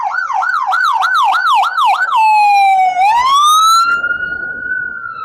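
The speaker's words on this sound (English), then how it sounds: "No, that's an ambulance." Loud ambulance siren in Cancun, a fast warbling wail that shifts into a long sweeping tone and fades as the vehicle passes close by, with no voices.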